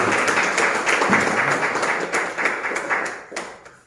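Audience applause at a monthly pastors and leaders association meeting in Chhattisgarh, a steady wash of many hands clapping that swells and then fades toward the end.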